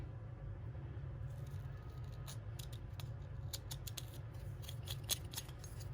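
A knife shaves a burr off the end of a plastic Knights Armament–style vertical grip clone, heard as a few quiet, close scraping and snipping strokes over a low background hum.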